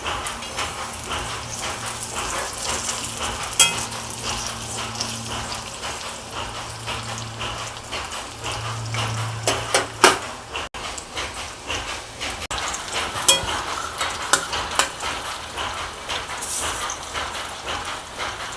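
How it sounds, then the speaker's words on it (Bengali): Lentil and soybean pakoras fry in hot oil, giving a steady, dense crackling sizzle like rainfall, with scattered sharper pops standing out near the microphone. "তো এখন পকোড়াগুলো ভাজা হচ্ছে"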